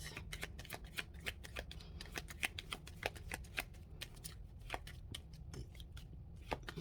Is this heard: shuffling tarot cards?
yes